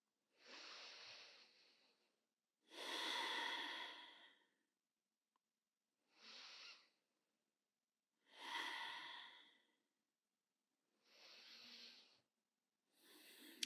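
Slow, deep breaths during a bedtime yoga relaxation, six soft breathy exhale-like swells spaced a few seconds apart with silence between, close and quiet, no talking.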